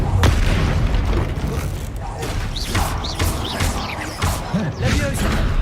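Spell blasts crack and boom amid clanking, creaking mechanisms during a fight with a troll in Hogwarts Legacy, a dense, continuous barrage of loud pops and bursts with several sharp impacts.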